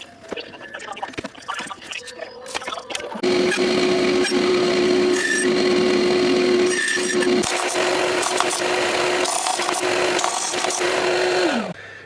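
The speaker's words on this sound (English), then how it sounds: "I'm going to start cutting bits of this out and gluing them down" Strip wood for an automaton's house being cut, first a few scattered knocks and handling sounds, then a loud steady machine whine for about eight seconds before it winds down and stops.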